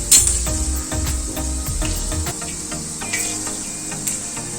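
Fenugreek seeds fry in hot oil with a steady, bright sizzle and crackle. No one speaks over it.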